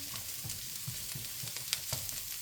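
Peppers and carrots sautéing in a pan for soup at a campsite, a soft steady sizzle with faint periodic scrapes of stirring, fairly quiet and alone.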